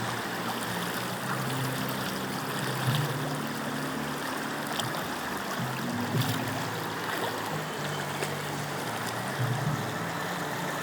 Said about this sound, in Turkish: böyle ferah ferah yürüyorum suyun içerisinde